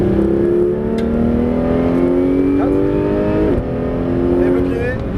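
A Porsche 911 GT3 RS (991) engine pulls hard in third gear on a race circuit, a loud steady rising drone with climbing harmonics and a brief dip near the end as the revs carry on, someone talking over it.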